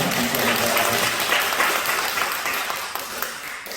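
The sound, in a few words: church congregation applauding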